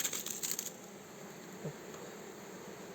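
A honeybee swarm buzzes near a hive box outdoors during swarm catching, a steady low drone of many bees, fairly faint and continuous, with a few soft knocks and no talking.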